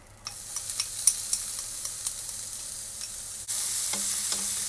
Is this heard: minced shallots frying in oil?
yes